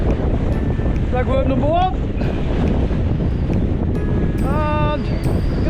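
Strong wind buffets the microphone in continuous loud rumbling gusts at a seaside spot in Fleetwood, UK, during sea fishing, with someone talking over it and brief high whistling tones cutting through.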